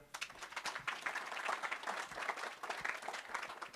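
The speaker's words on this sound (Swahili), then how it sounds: "Tuendelee kuwapigia makofi tafadhali." Sustained audience applause at a report launch event, dense steady clapping from a crowd filling the room at even volume throughout.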